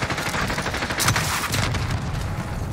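Rapid bursts of gunfire from an R9-0 shotgun class in a Call of Duty-style shooter match, dense and continuous with loud cracks and a heavy blast near the middle.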